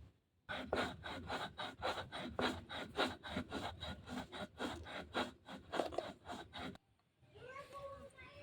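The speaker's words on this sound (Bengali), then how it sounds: "এগুলো এখন শিল্পটায় বেটে নেব কারণ শিল্পটায় বাটলে সব থেকে বেশি ভালো হয়" Homemade beet salt is ground by hand on a grinding stone with a quick, steady run of about twenty gritty rubbing strokes, close and fairly quiet, stopping briefly before a few softer scraping sounds.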